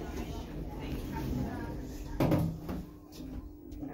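Lift doors in the Waterstones bookshop in Guildford slide shut and end in one short clunk partway through. A steady hum runs underneath, and an automated voice announcement plays in the lift.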